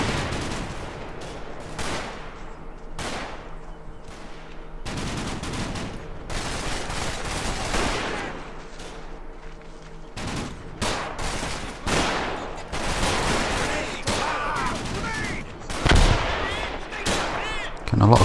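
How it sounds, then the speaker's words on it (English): Repeated grenade blasts and gunfire from the wartime strategy game Combat Mission during a Market Garden campaign assault on foxholes, loud bursts and crackling shots coming in irregular clusters throughout, with occasional talk beneath. "Getting a lot of grenades thrown at me."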